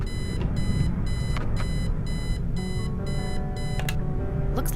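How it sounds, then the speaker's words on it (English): An alarm clock rings in the video game Kathy Rain, sounding as a loud electronic beeping in rapid repeated bursts with short gaps over a steady background hum, and a few clicks near the end. "Since it's such a long drive, I set the alarm so you won't miss the funeral."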